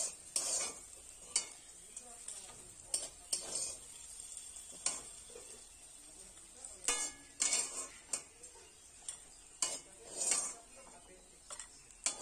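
Fried bitter gourd is stirred and lifted from a pan of sizzling oil, with a soft continuous sizzle under repeated sharp scrapes and clinks of a utensil against the pan.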